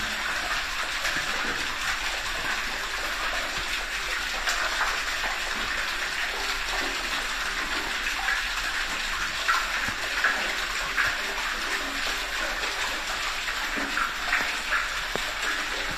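Water flowing steadily from an underground vein at the bottom of a deep treasure-hunting shaft, roughly 60 feet down, a continuous rushing gush heard close and alone for the whole stretch.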